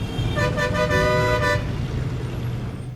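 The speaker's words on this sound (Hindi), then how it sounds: "for example traffic horns" A car horn honks in a sustained blare for about a second and a half, cutting out over a steady low rumble of road traffic.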